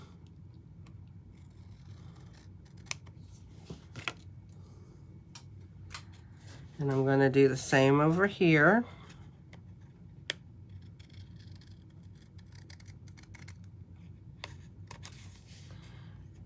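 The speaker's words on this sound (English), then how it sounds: "get my scissors in there" Scissors snip through a vellum card overlay in one short, close burst of rasping cuts lasting about two seconds, set between spoken remarks in a quiet room.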